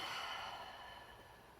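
A single deep breath out during a leg stretch, a soft airy exhale that starts full and fades gradually over under two seconds, close and quiet.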